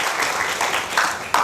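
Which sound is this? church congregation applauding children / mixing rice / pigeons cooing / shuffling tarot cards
church congregation applauding children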